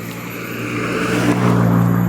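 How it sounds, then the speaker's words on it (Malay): A car engine drones and rises in pitch, growing steadily louder as it revs, with no talking. "Kereta ni melolong lah."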